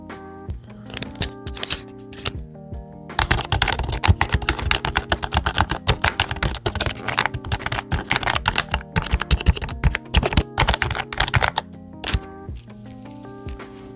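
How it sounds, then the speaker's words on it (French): Typing on a custom Apple keyboard, a dense run of quick clicky keystrokes close to the mic, sparse at first, then fast and continuous, easing off near the end over a faint background tone. "c'est un clavier Apple que j'ai custom"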